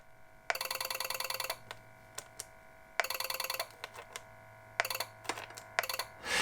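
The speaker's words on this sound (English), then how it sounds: "It's literally pulse dialing, and there's a relay inside here." A relay inside a 1970s wireless home phone clatters in rapid bursts of clicks as it pulse-dials, with short isolated ticks between the bursts and a faint steady hum beneath, heard close and without voices.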